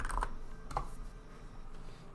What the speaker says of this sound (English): Okay, I have a keyboard.